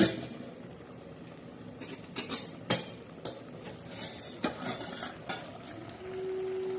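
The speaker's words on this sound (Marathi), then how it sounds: "तर चला मैत्रांना आपण झाकण काढून बघूया भाजी तयार शिजली का काय" Metal lid lifted off a pan of cooking dill greens (shepu bhaji), with clinks and scrapes of metal over a soft steady simmering hiss, ending in louder sizzling.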